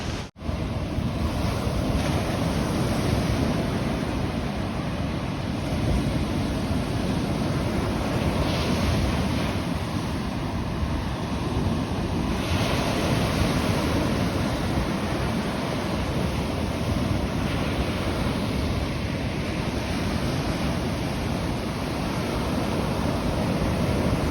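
Constant roar of ocean surf breaking on an Oregon Coast beach with strong wind buffeting the microphone, loud and steady throughout with no voices.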